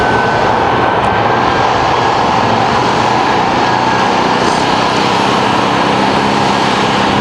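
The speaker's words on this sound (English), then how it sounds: "quarter scale, 144-inch long T-38 Talon" A giant quarter-scale, 144-inch-long T-38 Talon model jet taxis along the runway after landing at a scale competition, its turbine producing a steady, loud, continuous roar with no talk.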